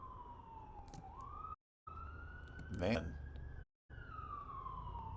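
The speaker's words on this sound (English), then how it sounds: "a lot of sirens going off tonight." Emergency vehicle sirens wailing outside at night, a rising and falling tone heard faintly at a distance, with someone speaking briefly and a short dropout twice.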